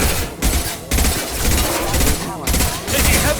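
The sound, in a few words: gunfire in the video game Mass Effect 2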